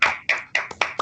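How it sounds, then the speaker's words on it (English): A few sharp hand claps sound close by at a roughly even rhythm, about five in a second, during an online anniversary celebration. "Round of applause, guys."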